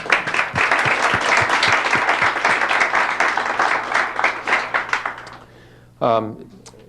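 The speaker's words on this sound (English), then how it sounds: "a big hearty thanks and a round of applause for these guys." A crowd applauds steadily for several seconds, the clapping thinning out before a voice starts talking nearby.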